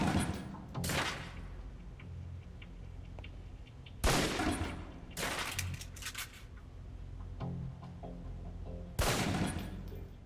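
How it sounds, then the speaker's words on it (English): Pistol shots ring out at a target range in the video game Alpha Protocol, about five loud, irregularly spaced reports with echoing tails over a low ambient hum. "Equip the pistol, then aim down range and take some shots at the target."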